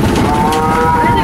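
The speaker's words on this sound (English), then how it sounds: "These cattle are very vocal up here today." Cattle mooing at a Florida Animal Kingdom attraction: one loud, close, drawn-out moo with a sustained tonal drone lasting the full moment, over faint background rumble.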